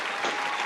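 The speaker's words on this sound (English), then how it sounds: "But we have to applaud this brother, Mr. Antoine Mckay." Applause from an audience for Antoine Mckay, dense clapping that swells slightly midway through a brief burst.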